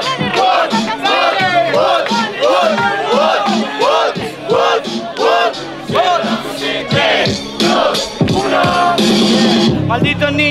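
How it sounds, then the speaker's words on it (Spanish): A large crowd at a Spanish-language freestyle rap battle roars and yells loudly and continuously, voices overlapping in a dense wall of cheering and shouting. "¡Quiero un fuerte ruido de la gente!"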